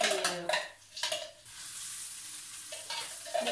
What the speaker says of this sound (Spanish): Echamos la verdura que se vaya friendo.